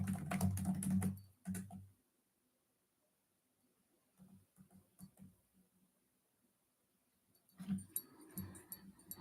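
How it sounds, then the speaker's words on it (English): Someone types on a computer keyboard in quick clattering bursts, loud at the start and end with softer scattered key taps in the quiet stretch between, no voices. "You can hear me typing"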